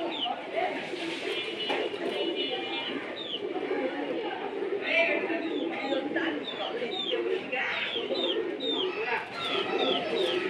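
A pair of Gorra racer pigeons coo in soft, repeated murmurs, close by, with chattering bird calls and background voices mixed throughout.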